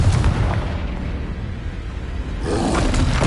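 Confringo fire spell explosions in Hogwarts Legacy on PS5, a sustained loud roaring blast that swells again toward the end, dense and booming, with no talk over it.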